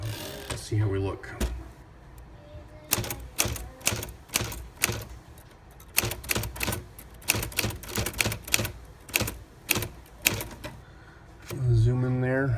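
Typewriter keys struck in fast bursts of sharp, close clacks after a typeface adjustment, with short pauses between runs and a brief mechanical rattle at the start and end, no talk.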